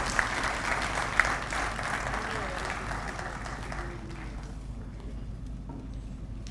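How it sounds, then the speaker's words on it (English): Audience applause at a university welcome ceremony, moderately loud at first and thinning out after about four seconds, with some murmuring in the room. "Please give them a big round of applause."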